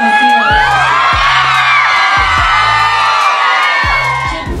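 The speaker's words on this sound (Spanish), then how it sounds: "todo el público les gritaba que se dieran un beso" Nightclub crowd yelling and cheering loudly, urging a couple to kiss, with sustained chanting voices and repeated low booming thumps from the club throughout.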